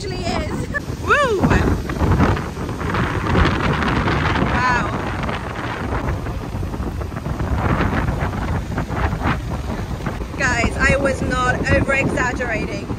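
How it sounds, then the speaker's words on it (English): Strong wind on a beach at Isla Holbox, Mexico, buffets the microphone in loud, continuous gusts, with a person talking and exclaiming over the roar. "I can just show you how windy it actually is"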